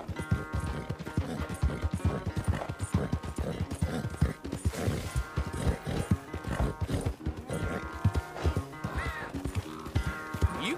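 Horse hooves clip-clop in steady, busy rhythm in a Red Dead Redemption cutscene, mixed with rustling and faint movement over a dense game soundscape, with no talk.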